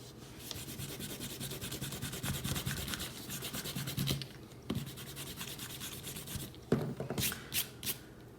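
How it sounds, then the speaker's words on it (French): Quiet, close eraser rubbing removes pencil construction lines from a drawing on paper, a continuous back-and-forth scrub with a couple of brief pauses and a few sharper scratches near the end. "Ok, on peut gommer nos traits de construction."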